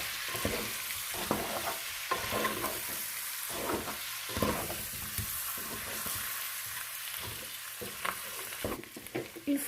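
Ground coriander, cumin and salt are stirred in a frying pan, with steady sizzling and frying under repeated scraping strokes of a spoon, close up and fairly quiet.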